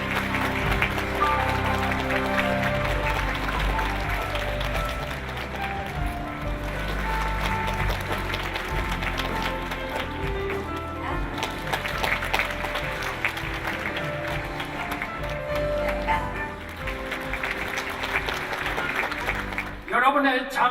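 Audience applause fills a graduation ceremony in the COEX Auditorium hall, a steady wash of clapping that lasts throughout with a voice and tonal music-like sounds mixed in, swelling briefly near the end.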